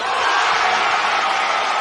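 Loud, dense crowd roar and cheering at a college basketball game, a steady wash of voices filling the arena for the whole moment with no pause.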